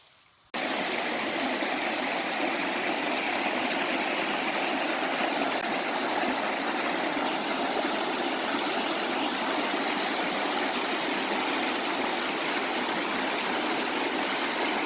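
A small stream in the Haliburton Highlands backcountry, once a waterfall, babbles and rushes in a steady, continuous wash of water noise, close by and uninterrupted, with no voices.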